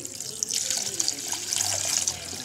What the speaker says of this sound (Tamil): இதில் தண்ணி ஊற்றலாம்.